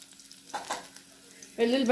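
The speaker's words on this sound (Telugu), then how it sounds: "ఇప్పుడు ఏం చేస్తానంటే దీన్ని గ్యాస్ ఆన్ చేసుకున్నాను, మూకుడు పెట్టుకున్నాను. అందులో కొంచెం వెల్లుల్లిపాయలు" Garlic dropped into a hot pan on a gas stove sizzles sharply toward the end, after a quieter stretch with faint stirring and a brief spoken voice.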